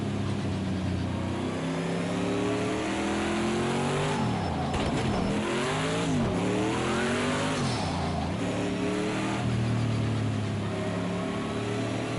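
Vintage race car engine in the Project Cars 2 racing game at Le Mans, revving hard with pitch sweeping up and down through gear changes, loud and continuous, no voices.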